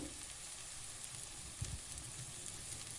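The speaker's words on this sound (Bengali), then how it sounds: "এবার এর মধ্যে দিয়ে দিলাম পেস্টটা দিয়ে খুব ভালোভাবে কষিয়ে নিতে হবে।" Cashew and green chili paste sautéing in a pan for chicken korma, a quiet steady sizzle with a soft knock or stir near the middle.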